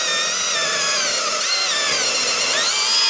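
A saw cuts along the grain of a piece of wood, giving a steady, loud, rasping noise that runs without a break for the whole stretch.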